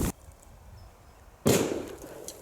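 Firecrackers go off in two sharp, loud bangs, one at the start and another about a second and a half later, each followed by a brief crackling tail.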